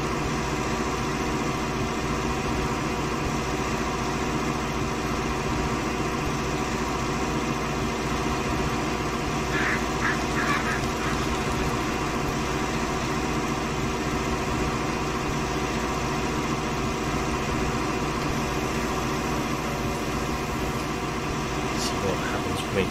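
A Zetor Proxima tractor engine in Farming Simulator 19 drones at a steady, even pitch throughout, a constant mechanical hum with someone talking over it.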